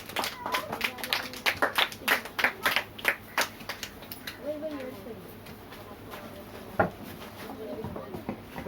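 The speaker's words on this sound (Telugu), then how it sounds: "క్లాప్స్ కట్టుకుంటాను, బాగా చెప్తున్నాను." Children clap together in a run of sharp, uneven claps at a Bible school that fades into quieter murmuring and a few stray taps; talking follows.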